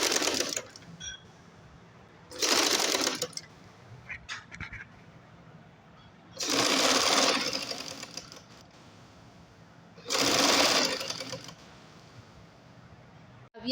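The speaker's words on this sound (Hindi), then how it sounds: "और हम आधे इंच की सिलाई लगा देंगे।" A sewing machine runs a half-inch seam on a child's shirt and trouser set in four loud, steady whirring bursts of one to two seconds each. Quieter handling noises fill the pauses between them, and there is no speech.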